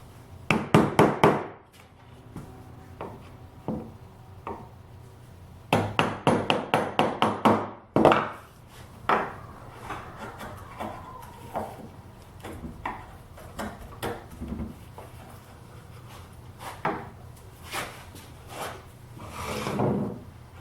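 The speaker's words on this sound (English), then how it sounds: "But we'll just take a spoke shave and flatten the dowel between the marks and use a chisel" Spoke shave and chisel working a wooden dowel flat for a wheelbarrow planter: two bursts of quick, sharp rhythmic scraping strokes near at hand, then sparser, softer cuts and taps, with no talking.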